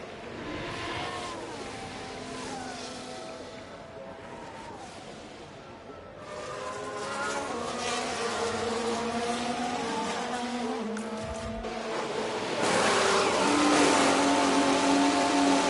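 Formula 1 race cars at Zandvoort in the racing game F1 Manager 24 whine and rev, with the engine pitch sweeping down and back up as a car pulls into the pits. The engine drone stays loud and continuous, and the tone shifts as gears change.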